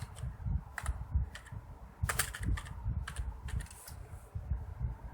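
Steady rapid typing on a computer keyboard while entering details for a Fiverr gig, close and clear with dense irregular key clicks throughout and no voices.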